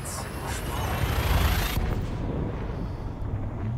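Hyperspace jump firing off in the Elite Dangerous space game, a rising roaring surge that builds to a loud rushing burst, then cuts off sharply into a lower, fading rumble.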